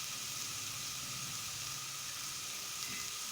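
Tomatoes softening in a hot pan for a quick chicken masala gravy, a continuous faint sizzle and low bubbling hiss, steady and close with no talk.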